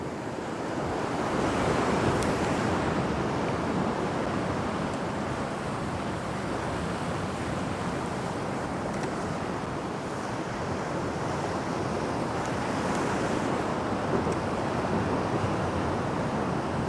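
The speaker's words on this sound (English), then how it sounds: "Now to wait for a wave." Ocean waves breaking along a wet rocky coast, a continuous broad roar of surf with wind buffeting the microphone, steady and fairly loud for the whole stretch with no voices.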